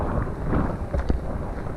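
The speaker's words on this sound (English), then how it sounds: "Just a little gust." A wind gust rushes across a mountain hiking trail in the Absaroka Beartooth Mountains of Montana, a steady broadband roar that swells briefly in the middle, with no talking.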